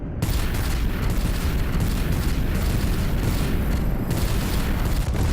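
Weapons fire and explosions from a Guardians of the Galaxy video game battle, a loud, dense, continuous roar of booms and rapid blasts filling the whole stretch without pause.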